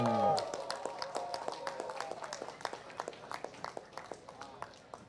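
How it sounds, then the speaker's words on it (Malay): A small crowd at a FIM MiniGP Malaysia race prize ceremony claps for the winner, scattered individual claps that thin out over a few seconds after a brief voice at the start. "berikan tepukan paling gemuruh kepada Kabil"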